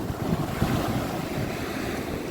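Sea waves wash onto a beach in a steady, continuous roar of surf mixed with wind buffeting the microphone, moderately loud and unbroken, with no voices.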